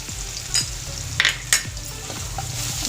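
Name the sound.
garlic paste with red chili powder frying in pan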